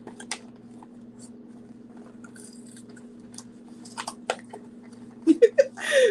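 Crunchy animal cracker cookies are chewed close to the mic, with a few crisp bites and crunches over a low steady hum, followed by brief vocal sounds at the end.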